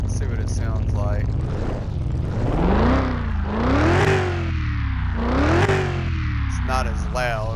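A hot rod engine in Car Mechanic Simulator 2021, rumbling on a mild cam with a factory exhaust, revved in repeated rising and falling swells, close and steady.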